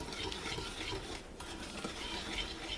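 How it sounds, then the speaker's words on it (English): A whisk scrapes and beats quickly around a bowl of pie filling ingredients with salt, a soft steady rhythmic swishing heard close and fairly quiet. "Okay, we're going to whisk this all together."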